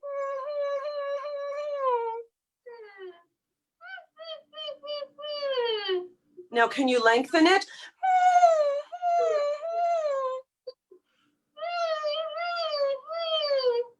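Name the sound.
voice imitating a puppy's closed whimper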